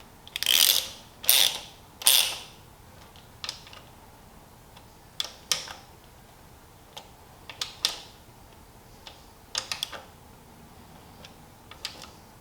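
A hand ratchet snugs the oil filter cover bolts on a Honda CRF450L dirt bike during an oil change, sounding in short bursts of sharp clicking separated by pauses, up close and alone.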